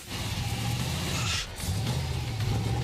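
A race car with a triple plate clutch pulls out of the pits, its engine droning steadily and loud close by, with a brief dip in the middle before it builds again.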